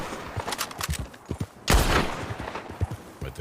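Video game gunfire rattles through rapid shots, with a louder burst in the middle that lingers, over a background of scattered game sounds.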